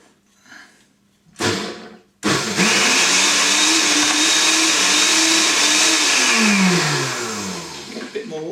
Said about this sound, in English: You see some soybeans, not so much that it's going to block up the blender